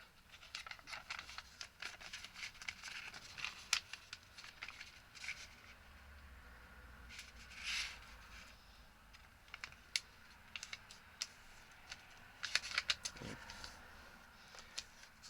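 Paper being creased and folded by hand for an origami heart: soft crinkles, scrapes and sharp creasing clicks come in irregular bursts, close and fairly quiet, with no talking.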